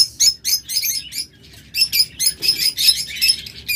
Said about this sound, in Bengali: বর্তমানে প্রায় 50 জোড়া লাভবার্ড রয়েছে